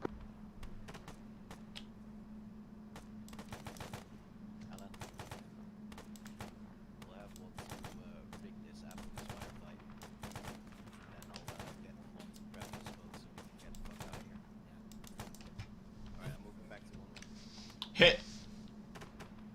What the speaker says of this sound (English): Richard, I'm firing over your head.